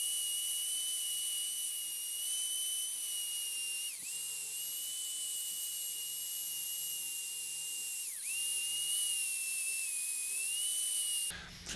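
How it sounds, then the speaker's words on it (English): A power sander works on a carved black walnut spoon holder with a steady, high-pitched whine. The pitch dips briefly twice as the sander bears down on the wood, then ends abruptly. "my regular sander, like I sand my bowls with, and I'm gonna go through the grits just like as if we were doing a bowl"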